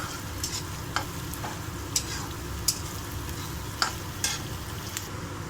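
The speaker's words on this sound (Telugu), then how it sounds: "అల్లం వెల్లుల్లి పేస్ట్ వేసాం కదండి, కలుపుకున్నాము" Ginger garlic paste fries in a pan for cauliflower fry, a steady close sizzle punctuated by about six sharp spoon taps and scrapes at irregular intervals, with no voices.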